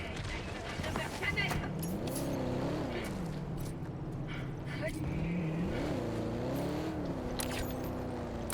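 Car driving through mountain terrain in a co-op action video game, engine hum rising and falling through gear-like pitch sweeps, with players talking over it throughout.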